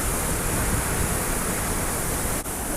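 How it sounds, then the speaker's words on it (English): A monsoon-swollen waterfall in Goa roars at full force, a dense, steady broadband rush that fills the whole stretch without pause, with only a tiny dip near the end. "The water is flowing with full force thanks to the monsoon, and it's been raining since morning"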